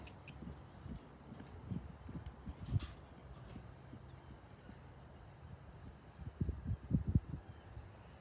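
Horse hooves walking on the ground during a pre-purchase lameness exam, giving irregular low thuds and clops that cluster near the start and grow louder and denser toward the end, over a quiet outdoor background.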